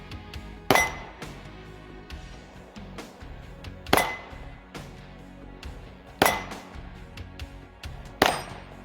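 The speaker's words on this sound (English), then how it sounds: "See if we can ring some steel. That is a 12-inch plate" Four sharp, loud reports from a Glock 20 10mm pistol, spaced roughly two to three seconds apart, each followed by a bright metallic clang as a 12-inch steel plate rings. There is no talking.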